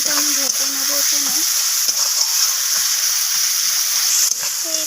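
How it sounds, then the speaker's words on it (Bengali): Onion, tomato and capsicum fry in a pan with a steady, close sizzle, while a faint melodic tone rises and falls over the first second and again near the end. "তো এখানে আমার পেঁয়াজ, টমেটো, ক্যাপসিকাম ভাজা হয়ে গেছে।"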